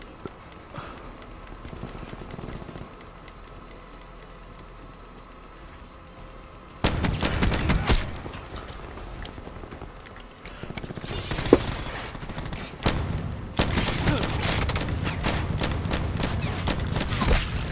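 Bursts of Call of Duty gunfire crackle through a busy game mix, with dense volleys picking up around the middle and continuing to the end, loud and close with no talking.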